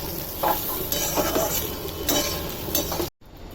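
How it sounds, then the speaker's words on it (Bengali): Okra and potatoes sizzle in a pan with a continuous hiss, broken by a few louder scraping stirs, then the sound cuts off abruptly near the end. "এখানে ভেন্ডি আলুটা ভাজা হচ্ছে লবণ হলুদ দিয়ে ভাজছি"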